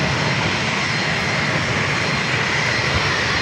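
Airliner jet engines roaring at San Diego airport on runway 27, a loud, steady, broadband rumble and hiss that stays constant throughout, with no voices.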